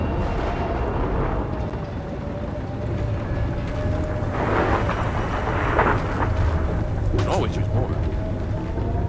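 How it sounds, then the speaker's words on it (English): A storm rages in the video game Gears of War 4, with a dense, steady roar of wind and rain and a few deeper rumbles of thunder, and characters talk over it. "We don't know how long the storm will last."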